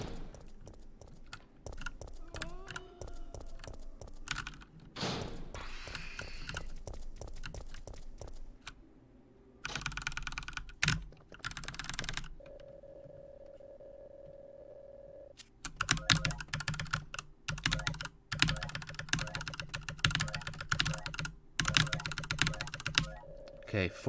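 Rapid clattering keystrokes on a computer keyboard during a Resident Evil 3 Nemesis speedrun, bursts of fast typing broken by brief pauses, a short steady tone and game sounds mixed in.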